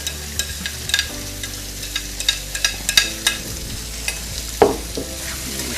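Green onions and snow peas are stir-fried for chicken lo mein, a steady sizzle of hot frying under repeated clattering scrapes of a utensil stirring the pan.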